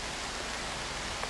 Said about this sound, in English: Finally, we're getting some rain.